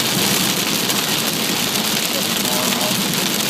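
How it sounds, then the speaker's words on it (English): Dense, steady rain patters loudly and continuously, blending with a low engine rumble as if heard from inside a vehicle. "It's raining."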